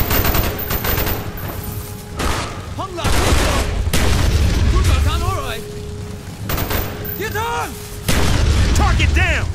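Loud, dense battle din in the Call of Duty Black Ops mission The Defector, with booming blasts and gunfire layered over constant rumble, several sharp bursts across the scene, and voices shouting underneath.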